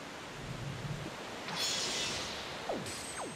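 A waterfall in The Legend of Zelda: The Wind Waker gives a steady, rushing wash of falling water. It stays moderately loud throughout, and a couple of brief gliding game effects sound near the end.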